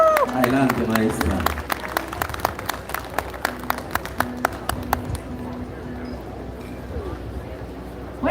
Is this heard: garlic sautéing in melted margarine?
no